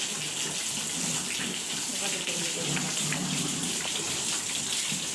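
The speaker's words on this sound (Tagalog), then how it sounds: "Kulang yung pressure ng tubig." Water runs from a tap with low pressure on a backyard farm, a steady close hiss and splatter that carries on unbroken throughout.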